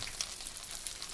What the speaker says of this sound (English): we're going to stick that into the hot pan. You hear it sizzle.